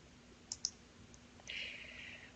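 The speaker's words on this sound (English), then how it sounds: "I'm going to click delete here." A computer mouse clicking a delete button, heard as two quick, quiet clicks early on, then a faint hiss in a quiet room, with no talk.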